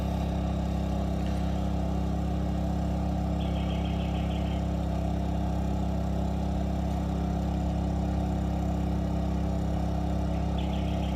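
A Honda or Gentrax portable generator runs under full load, giving a steady, continuous engine drone with a constant low hum and no change in pitch throughout.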